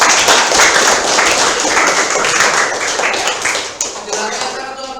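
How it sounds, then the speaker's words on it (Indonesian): Classroom audience clapping during a student group presentation session, a dense, close round of applause that holds steady and thins slightly toward the end. "Oke, beri tepuk tangan dulu untuk yang sudah"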